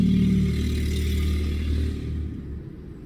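Car engine revving, a loud, close throaty roar with rattling clatter that holds steady and then winds down and fades toward idle, with no speech.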